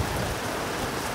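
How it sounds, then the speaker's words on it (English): Rain falling on a Paris street, a steady dense hiss of drops on surfaces that stays even throughout, with no voices. "It's sunny but raining."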